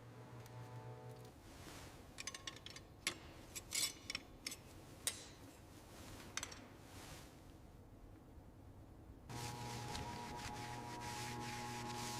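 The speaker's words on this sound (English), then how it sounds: "The solvent brush and nylon tool are working together, revealing the original texture beneath the grime." Solvent brush and nylon tool scrubbing grime off a part from a vintage 1927 Dodge car, a close, steady rubbing with scattered sharp ticks and scrapes, alone without any talk.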